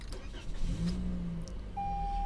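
A 2021 Toyota Corolla LE with a 1.8-liter four-cylinder engine starts up, a brief low crank settling into a steady hum close by, with a chime tone sounding near the end.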